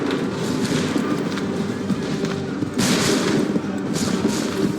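A volley of musket gunfire in Assassin's Creed III crackles as a dense, continuous rattle of many shots, swelling into louder bursts near the end, close and forceful.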